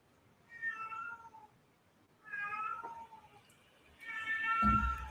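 Cats yowling while mating, three drawn-out wailing cries in a row, each lasting about a second, with the last one loudest and accompanied by a low thump, all fairly close and with no talking.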